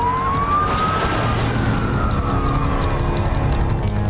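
An airport emergency alert siren wails loud and close, its tone sweeping upward and then slowly falling, sounding continuously with no voices over it.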